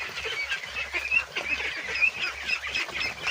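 Ducks being fed azolla honk and quack repeatedly at close range, a busy overlapping chatter of calls with soft background noise and no talking.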